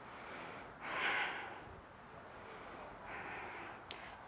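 Slow, audible breaths during an extended side angle yoga pose: a strong exhale with a soft nasal snort, then quieter breathing, then another long exhale, close and alone.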